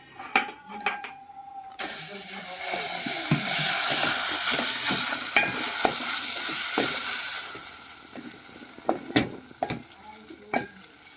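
Soft soaked dough mixture is stirred into hot sugar syrup for a Telangana-style kanda gadda sweet, a hissing bubbling swell in the middle with sharp utensil clinks and taps before and after.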